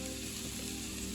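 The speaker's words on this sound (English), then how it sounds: "this should be done pretty quickly on this George Foreman grill" Chicken cooks on a George Foreman grill with a dense, even sizzle and a steady hiss that holds without a break through the brief moment, close and moderately quiet, with no talking.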